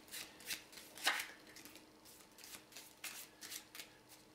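Normal unsorted deck of playing cards riffled and shuffled by a magician, a run of soft papery bursts with one sharper flurry, close and quiet, no talking.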